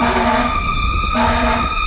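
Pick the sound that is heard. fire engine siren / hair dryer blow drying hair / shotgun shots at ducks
fire engine siren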